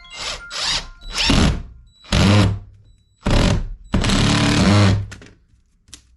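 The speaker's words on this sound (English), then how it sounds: "And this short drill works well." A short power drill whirs in about six quick bursts of varying length during a quick craft repair, loud and close, with brief pauses between runs.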